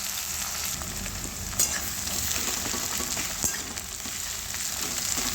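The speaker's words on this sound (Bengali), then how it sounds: "আর পেঁয়াজটা ভাজতে দিয়ে দিচ্ছি।" Onions frying in a pan with whole spices, a continuous close hiss and sizzle with a couple of brief stirring clicks.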